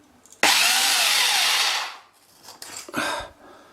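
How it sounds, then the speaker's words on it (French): Power drill boring holes into a wall while a limescale filter cartridge system is installed: a loud whining burst of about one and a half seconds, a pause, then shorter drilling bursts, close up with no talk. "Il ne me restera plus qu'à percer cette partie-là, faire des trous dans le mur"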